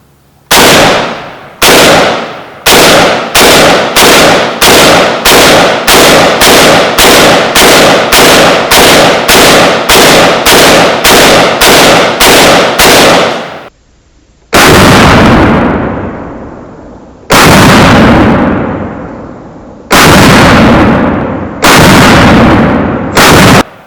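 An AK rifle fires a rapid string of very loud, close gunshots at an even rhythm, then, after a short pause, several slower single shots with long reverberant tails.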